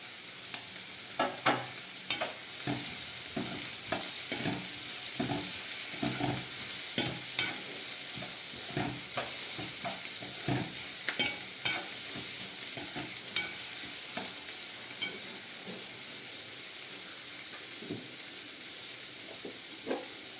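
Sweet corn sandwich filling fries over a slow flame, a low hiss punctuated by frequent scraping stirs and small clicks from a spatula, moderately close and unaccompanied by speech.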